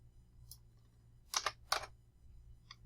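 A few quick keystrokes on a computer keyboard in a quiet room: a soft tap, then a tight cluster of sharper clicks, then one faint final tap.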